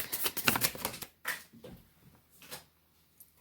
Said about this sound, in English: First, we're gonna pull an animal spirit oracle card.